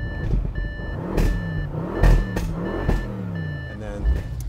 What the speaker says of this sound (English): except for this beeping noise that will not stop